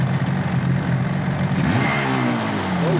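Car engine revved high, close and loud, a dense mid-range drone that holds steady and then shifts pitch with rising and falling harmonic sweeps toward the end, no voices over it.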